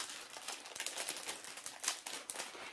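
Plastic zip-lock bags filled with diamond painting stones are handled up close, giving soft crinkling and rustling with quick little clicks and taps throughout.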